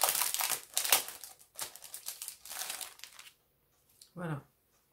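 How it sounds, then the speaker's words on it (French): Crinkly paper rustling and tearing from a gift card being unwrapped, a close run of crumpling bursts for about three seconds, then quiet and a short final rustle. "Je vais vous la déballer."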